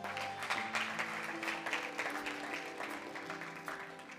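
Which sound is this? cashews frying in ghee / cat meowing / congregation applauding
congregation applauding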